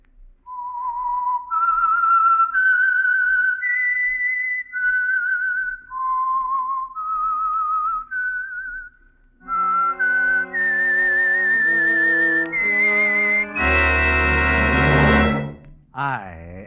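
The whistled theme of the old-time radio program The Whistler: a person whistles a slow, eerie melody alone, then the tune is picked up by an orchestra that swells to a loud sustained chord.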